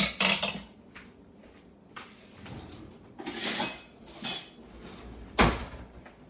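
Metal spoon clinking and scraping against a pot while skimming foam off homemade plum jelly: a handful of sharp, separate clinks and taps, close and fairly loud, with quiet gaps between them.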